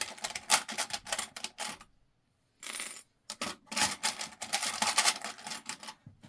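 A sewing machine stitching clear jelly vinyl with a cork label and variegated thread at a long stitch length, heard as rapid, close mechanical clatter in bursts, with a pause around the middle and another brief gap just after.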